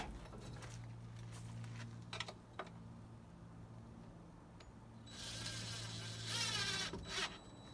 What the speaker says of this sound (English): I'll go ahead and put in the first screw, and then I will check the level again